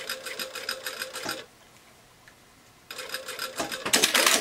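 A sewing machine stitches fabric for a welt pocket with a flap in two fast, rattling bursts separated by a quiet pause of about a second and a half, close and loud, with the second run speeding up at the end.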